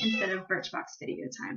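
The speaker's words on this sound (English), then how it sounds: "She's a spoiled, pampered cat." A pampered domestic house cat meows close by, its cries mixed with and partly overlapping a woman's speech.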